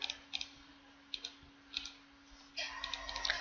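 A computer mouse clicks sharply and close by, several separate clicks and a short quick burst near the end, with no talk.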